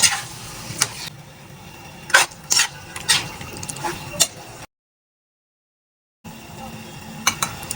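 Small squid cooking in a pan, with scraping and clinking of a utensil stirring against the pan over a soft sizzle, then a short stretch of silence before the stirring resumes.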